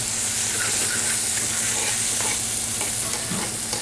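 Butter melting with softened onions in a hot pan, a steady dense sizzle and frying hiss close up, with faint utensil taps.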